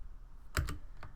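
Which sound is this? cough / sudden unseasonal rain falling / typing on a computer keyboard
typing on a computer keyboard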